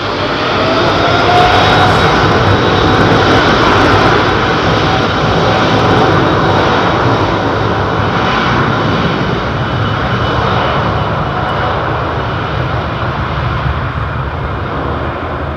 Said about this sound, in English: this Qatar jet taxiing out now